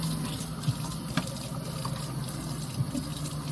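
Hot water streams steadily from a dispenser into a cup inside an RV, a continuous close pouring hiss with a few small splashes.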